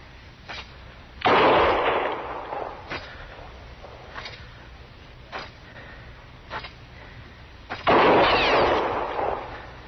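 Gunshots in a Western radio drama set in frontier Dodge City: two loud, sharp close shots roughly six seconds apart, with fainter cracks and knocks between them and no talk over them.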